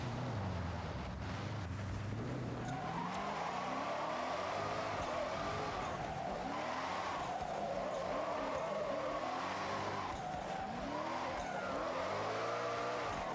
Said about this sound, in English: A drift Land Rover.